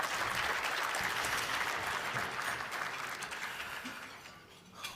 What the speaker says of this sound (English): Come on, you can clap for them.